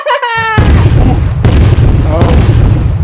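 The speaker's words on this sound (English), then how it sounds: "I keep crashing into the ship." A cartoon character in a VeggieTales animated space story crashes into a spaceship: a loud booming impact followed by sustained rumbling, noisy crashing that fills the clip, with a brief tonal sound just before the hit.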